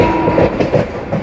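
Wheels of the Chittoor–Kacheguda Venkatadri superfast express clatter over the rails in a steady, close clickety-clack with a low rumble beneath, heard from on board the moving train.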